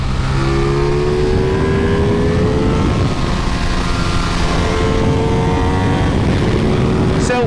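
A CF Moto 450SS motorcycle engine runs loud and steady while riding, its pitch sliding and climbing as the throttle varies, with the whine of the revs over rushing wind noise.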